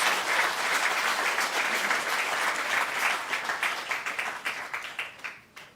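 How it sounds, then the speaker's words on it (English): An audience at the commissioning of an exceptional learners' center breaks into dense, steady applause that holds strong for several seconds, then thins into scattered claps and fades out. "give another round of applause"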